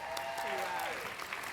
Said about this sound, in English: Come on, you can applaud this.